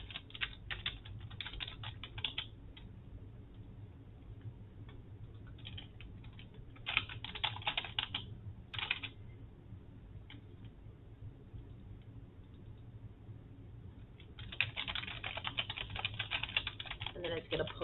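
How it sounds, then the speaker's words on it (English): A computer keyboard is typed on in several bursts of quick close clicks with pauses between them, and a quiet voice talks under the keys. "And then here I'm going to type in"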